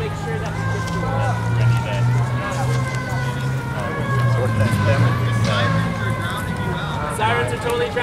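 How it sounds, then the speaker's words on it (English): Wailing sirens rise and fall steadily under a crowd's chatter and a nearby voice at an outdoor Occupy Richmond protest assembly in 2011, with a low engine-like rumble throughout. "Sirens are totally drowning me out"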